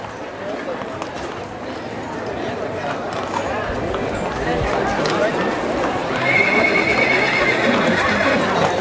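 Horses at a cavalcade during a village fiesta in Cuauhtémoc, Michoacán, with repeated neighing and whinnying over a steady clip-clop of hooves and a murmuring outdoor crowd, people talking throughout.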